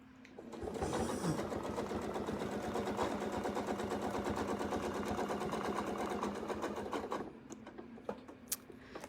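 A sewing machine runs steadily while tying off quilting stitches, a fast continuous mechanical whir lasting several seconds before stopping, followed by a few faint clicks.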